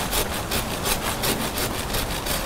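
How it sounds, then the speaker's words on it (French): A hand saw makes an undercut beneath a tree branch during pruning, with rhythmic rasping strokes in a steady back-and-forth pattern, loud and close with no talking. "Je fais d'abord un trait de scie en dessous"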